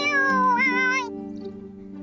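A cartoon cat meows once, a loud, drawn-out, wavering call that rises and then trails off, heard alone and close.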